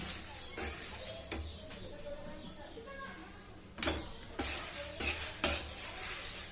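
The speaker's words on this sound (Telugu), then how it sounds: "పోపును మనం వేయించుకోవాలి." Tempering spices, including peanuts and asafoetida, fry over medium flame in a pan, with a faint sizzle under scraping stirs and several sharp utensil knocks against the pan.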